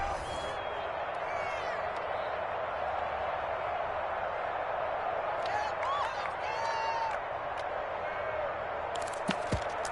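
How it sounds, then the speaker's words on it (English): A stadium crowd roars steadily in a PS4 football video game ahead of a two-point conversion, a constant distant wash of noise with occasional swells and claps. "Listen to this crowd now."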